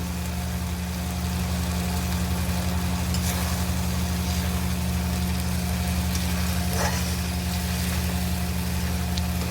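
A chhena dalna masala with cashew and raisin paste fries in a pan, giving a steady soft sizzle with an even low hum beneath it and no voices.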